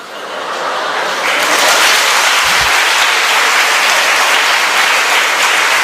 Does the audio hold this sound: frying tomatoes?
no